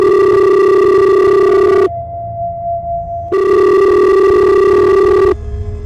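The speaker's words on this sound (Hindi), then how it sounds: "और तभी उसकी अम्मी का फोन आया।" A telephone rings loudly in steady electronic bursts, two long tones separated by a short pause, playing alone without speech.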